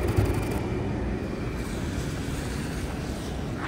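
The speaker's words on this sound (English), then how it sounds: "Wait. Tram." A tram rumbles past on a Kansas City street, a steady low-pitched roar that stays loud throughout with no voices.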